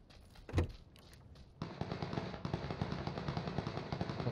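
Gunfire in the battle-royale video game PUBG: one sharp, loud shot stands out early, then a dense, sustained crackle of rapid shots and game noise carries on steadily to the end at moderate distance.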